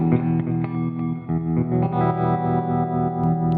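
An Eastwood Airline '59 3P DLX electric guitar through a Boss MD500 pedal's tremolo patch and a tube amp plays sustained chords that pulse in volume, lush and modulated with a chorus-like shimmer, close and alone.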